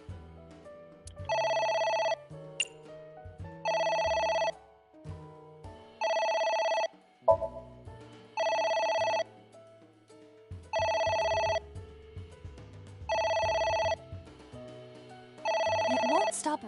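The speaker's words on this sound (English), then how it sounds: "A phone. Should I pick it up?" Telephone in the video game Ai: The Somnium Files rings repeatedly in regular bursts, about seven rings spaced roughly two seconds apart, with quieter game sounds between them.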